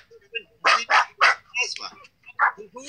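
A dog barks in a series of sharp, loud yaps, several in quick succession and then one more after a short pause, close by, with people talking faintly underneath.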